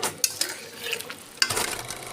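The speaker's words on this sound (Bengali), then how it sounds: "দিয়ে ভালোভাবে ঝোলের সঙ্গে মিশিয়ে নিচ্ছি" Fried boal fish being stirred into a simmering curry, with scraping spoon strokes against the pan over a soft bubbling sizzle, one firmer scrape near the middle and no voices.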